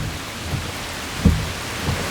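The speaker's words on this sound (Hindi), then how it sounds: "बारिश हो रही है" Heavy rain pours steadily at a bus stop, a dense continuous hiss with a brief low thump partway through, and no one speaking.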